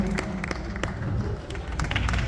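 Scattered audience clapping at a book presentation honouring teacher Andrés, a modest crowd producing uneven, separate claps over a low background murmur.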